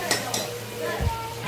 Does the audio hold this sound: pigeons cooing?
no